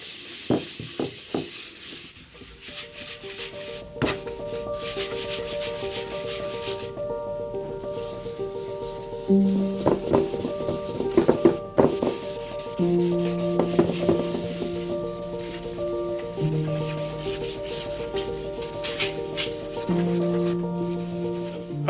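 Grain filler is rubbed by hand into the wooden cabinet of a UNIC Royal radio under restoration, giving a soft, continuous rubbing and scrubbing sound up close, with faint background tones and no speech.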